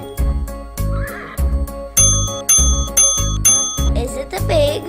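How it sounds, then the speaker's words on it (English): Farm horse neighing in a children's animal-learning sequence, several loud whinnies and snorts between rhythmic clip-clop beats and bright bell-like dings, close and clear with no talking. "Is it a sheep? Is it a horse? Horse."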